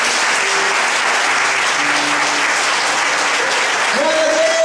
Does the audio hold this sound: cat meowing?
no